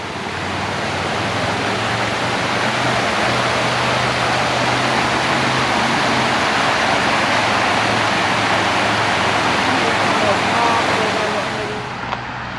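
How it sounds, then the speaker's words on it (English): Road traffic on a Smoky Mountains hiking trail near Gatlinburg makes a loud, continuous broadband roar and rush of passing vehicles that swells and fades slightly, with no other clear sounds. "If you don't mind a little traffic noise."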